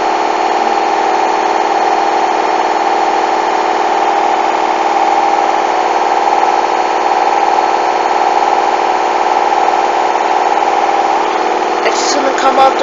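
A Hoover washing machine running a 40°C coloureds bedding load, its drum spinning up with a steady loud whirring hum that holds throughout, with a brief clatter near the end.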